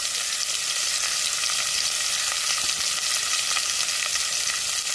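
Chopped onion and green chili fry in hot oil in a pan, a loud, continuous sizzling hiss with soft stirring noises and no talk.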